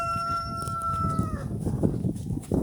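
Chickens on a small poultry farm: a rooster's crow trails off early, followed by scattered nearby clucking and hen calls over a busy, moderately loud farmyard background.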